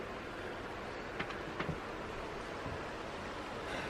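Steady broadband rushing of a river flowing on all sides, a continuous wash of water noise with a few faint brief clicks over it.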